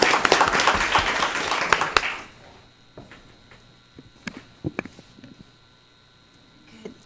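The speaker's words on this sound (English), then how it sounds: "So let's give a round of applause for that." Audience at a school board meeting applauding, a dense burst of clapping for about two seconds that cuts off sharply, followed by quiet room noise with scattered thumps and shuffles.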